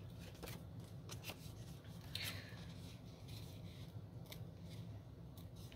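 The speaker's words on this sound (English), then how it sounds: "cut right below the line" Scissors snip through paper while making a coin envelope for a mailer, a steady soft cutting rasp with a brighter slice near the middle, close up and quiet.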